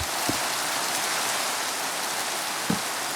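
Steady rain pouring in the video game Minecraft, a constant even hiss of falling drops with a couple of faint low taps, no voices.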